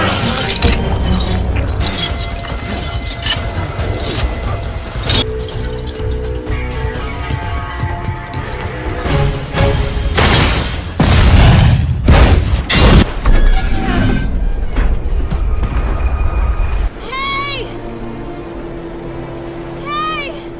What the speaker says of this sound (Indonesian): setelah kapal kren meledak dan terbakar